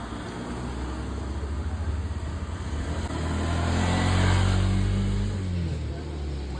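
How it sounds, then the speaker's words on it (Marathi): A car drives past on Tulas Vengurla Road, its engine rising from a low rumble to a louder mid-range swell and then easing away, with people talking over it. "गाडी गेली आहे"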